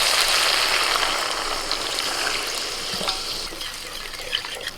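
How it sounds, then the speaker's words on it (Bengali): Spice paste of ginger, turmeric and salt sizzles loudly in a pan as water is poured in for a fish curry, a bright continuous hiss that gradually softens. "মশলা কষানো হয়ে গেছে এবার একটু জল দিয়ে দিচ্ছি"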